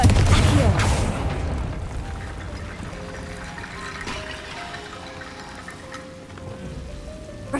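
A Confringo fire spell bursts in Hogwarts Legacy, opening with a loud, broad blast in the first second that fades into a long, hissing, crackling rumble. Faint tonal game sounds and the occasional murmured voice sit underneath.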